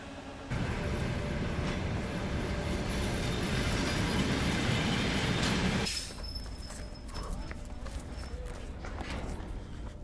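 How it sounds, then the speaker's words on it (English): A train on the Baikal-Amur Mainline rolls in with a loud, broad rumble and clatter of wheels. After about six seconds it drops to a quieter hum with faint metallic squeal and clanks. "Trains don't stop for long on the BAM, so you have to jump on as soon as he gets here."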